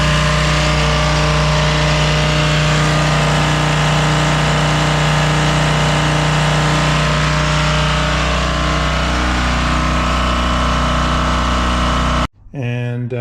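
Rebuilt Detroit 2-53 diesel engine with 100 hours on it running steadily at a loud, constant drone, heard up close, then shutting off abruptly near the end.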